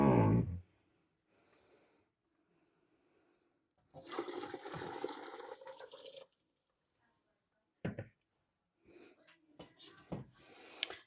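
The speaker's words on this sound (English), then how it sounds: "So I'm just going to pour this all back in my pot." Strained ham bone soup is poured from a colander bowl back into a cooking pot. A loud splash opens, then a longer gushing pour follows, with short knocks and trickles of liquid after it in an otherwise quiet kitchen.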